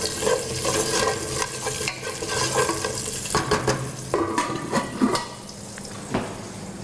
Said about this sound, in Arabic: أقلب البصل